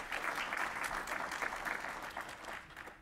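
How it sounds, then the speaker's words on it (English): A summit audience at LinkedIn in Silicon Valley applauds with dense, sustained clapping that holds evenly for about three seconds before easing slightly at the end. "let's start with the applause"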